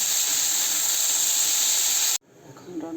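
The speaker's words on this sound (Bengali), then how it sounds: "লাউ তেল দিয়ে দিয়েছি" Bottle gourd frying in hot oil gives a loud, steady hiss and sizzle that cuts off abruptly near the end, leaving faint kitchen sounds and a murmur of voices.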